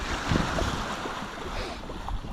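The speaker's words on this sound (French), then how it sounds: "on a quand même des petites vagues qui nous secouent dans tous les sens" Gentle waves slosh against a small sailboat at sea in almost no wind, with soft splashes over a steady wash of wind and water, fairly close.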